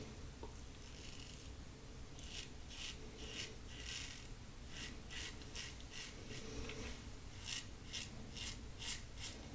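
A razor shaves against the grain through Pannacrema Nuàvia Blu lather, making faint, close, rasping scrapes in a steady run of short repeated strokes with no talking.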